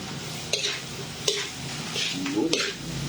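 Garlic fried rice (sinangag) being stirred in a frying pan, a steady sizzle broken by several sharp scrapes and clinks of a utensil against the pan at irregular intervals, close and fairly quiet.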